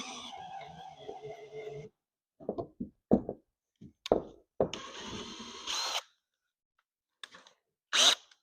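A power drill backs a screw out of a boat's hull-deck joint in short, close bursts of whirring with small knocks and pauses between.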